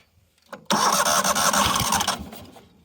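A neglected 1998 Yazoo YTKC22 three-wheel mower's small engine catches with a sudden loud burst, runs roughly for about a second and a half, then sputters and fades out.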